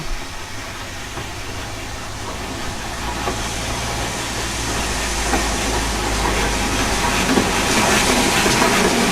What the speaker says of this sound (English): as a main line train came in